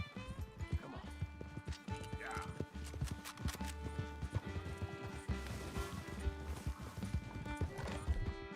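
Horse hooves gallop in a rapid, steady rhythm in the Western video game Red Dead Redemption 2, with brief neighs and a voice speaking over the ride.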